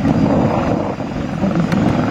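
A military helicopter at the 2019 Dijon air show at air base BA 102 roars loudly and steadily with a dense, close rotor and engine drone.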